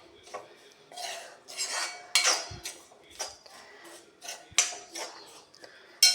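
A spoon scrapes and clatters against a pan while grated coconut roasts on a low flame for theeyal. Irregular metallic strokes come in quick bursts, close and clear, with quiet gaps between them.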